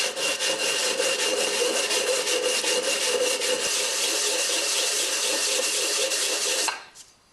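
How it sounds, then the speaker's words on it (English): Sanding by hand with 100 grit sandpaper wetted with WD-40, a close, continuous scratchy rasp of rapid back-and-forth strokes that stops abruptly near the end. "I just sprayed a little WD-40 on some 100 grit"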